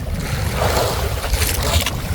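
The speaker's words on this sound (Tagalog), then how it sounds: "Medyo malakas kasi ang hangin" Strong monsoon wind at sea buffets and roars steadily, with water sloshing against a fishing boat hull beneath it; no voices.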